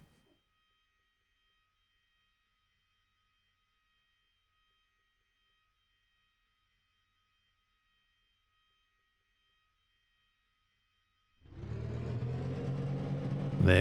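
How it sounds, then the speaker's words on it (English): A race car engine at Silverstone in a sim racing game catches near the end after a long near-silent wait, then settles into a loud, steady idle. "Very shortly, we will get to hear the engine start."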